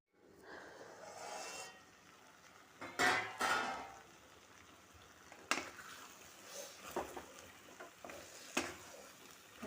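A metal lid clatters onto a pan of simmering Konkan-style jackfruit bhaji with a couple of close clanks. A few softer knocks follow over a low cooking hiss, with no speech.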